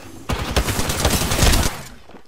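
Sustained automatic gunfire in the video game Apex Legends, a loud rapid burst of close shots lasting over a second before cutting off, heard alone without talk.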